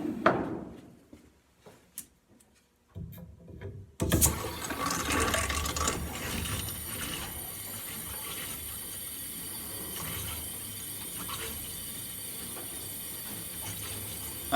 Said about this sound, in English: I can hear water running everywhere upstairs.